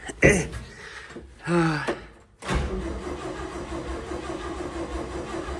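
Chevy C60 truck engine cranking on a shot of ether: a sharp bang and a few strained cranking bursts, a short pause, then the engine catching and running with a steady rough idle, close, with brief voice sounds early on.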